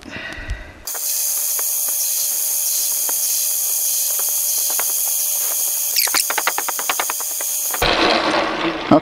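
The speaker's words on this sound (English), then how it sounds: "Let me speed up the lathe." A metal lathe runs at a steady high-pitched whine while turning a captive nut puzzle, with a rapid burst of cutting chatter near the end before the motor stops abruptly; no talk.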